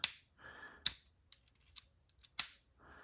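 A PB Swiss screwdriver bit clicks sharply onto the strong magnet in the handle, with three or four crisp metallic snaps and a few fainter ticks and rattles between them, close and isolated.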